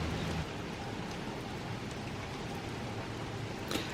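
Steady rain falls on a winter morning during a Tesla delivery route, a dense even hiss of drops on surfaces continuing without break, with a small knock near the end.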